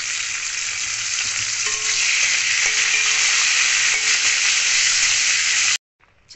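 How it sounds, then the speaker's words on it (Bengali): Cashews and raisins fry together in hot oil in a pan over low gas for vegetable fried rice, a loud, steady sizzle with light stirring clicks that cuts off abruptly near the end. "কাজু আর কিশমিশটা একবারেই ভেজে নেব।"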